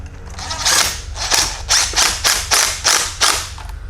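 A nut and bolt are tightened on a chain fitted to a skid steer's rubber block track, producing a close, loud series of about eight rhythmic ratcheting clicks in steady bursts.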